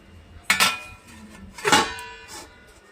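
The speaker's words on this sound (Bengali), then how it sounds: "এবারে ঢাকা দিয়ে দিচ্ছি" A lid is set onto a cooking pot while pulao is prepared, making two distinct metallic clanks about a second apart, each with a short ringing tail, close and fairly loud with no voices.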